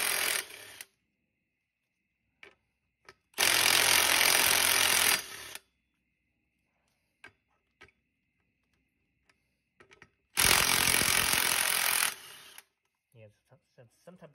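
A power tool or ratchet working a thread-locked bolt loose during a belt conversion on a Triumph Speed Twin motorcycle, in two loud, harsh bursts of about two seconds each, with faint clicks and handling noises in the quiet between.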